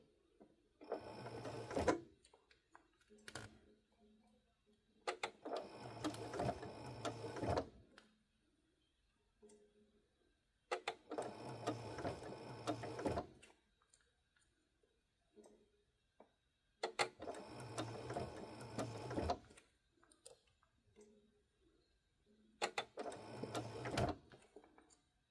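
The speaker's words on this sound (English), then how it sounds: "So that is all sewn down." Sewing machine stitching slowly in the ditch, a fairly quiet close whir in five separate bursts of a few seconds each, with quiet gaps between them.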